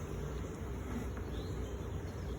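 Honeybees buzz around an open hive during a summer inspection, making a constant dense hum that is soft and steady throughout with no voices.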